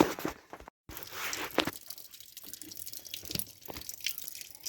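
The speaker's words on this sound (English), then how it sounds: "that nice clean water seems to be flowing a lot better now" Clean water trickles and drips during a holding-tank pump-out on an Irwin 42 sailboat. The splashes are faint, close and irregular, with a brief silent gap early on.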